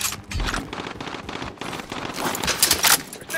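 Rapid bursts of automatic gunfire crackle in Call of Duty Warzone on Rebirth Island, loud and close, in repeated volleys with brief gaps.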